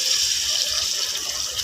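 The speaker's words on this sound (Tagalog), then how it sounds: "Lagyan natin ng tubig." Water is poured into a cooking pan of sautéed meat as a steady, close splashing stream that runs the whole time without pause, with no voices.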